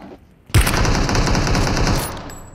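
Rapid automatic gunfire in PUBG Mobile, a dense sustained burst of shots lasting about a second and a half, loud and close with no talk over it.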